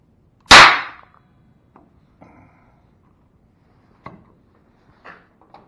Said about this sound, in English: That's quite a little explosion.